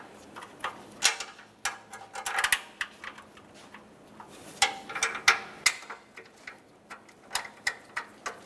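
Mounting bolts on a 2015-2019 Subaru Outback impact absorber being snugged up by hand tools, heard as close, light irregular clicks and ticks of ratcheting and metal contact in scattered bursts.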